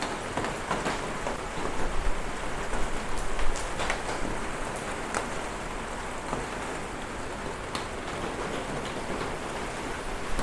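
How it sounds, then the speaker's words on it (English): Steady rain falling in Mariveles, Bataan, a dense, even hiss of drops on surfaces with scattered louder patters, continuous and close throughout. "As you can tell, it's raining here in Mariveles, Bataan."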